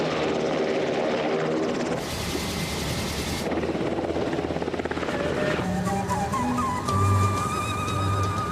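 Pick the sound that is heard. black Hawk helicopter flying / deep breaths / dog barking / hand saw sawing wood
black Hawk helicopter flying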